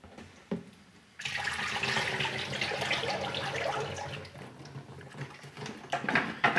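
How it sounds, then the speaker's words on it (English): Pottery ash glaze made from pitfire ashes pours steadily into a bucket, a continuous close liquid splash and patter running for several seconds after a brief quiet start, with no talking. "then basically just kind of pour the glaze into this"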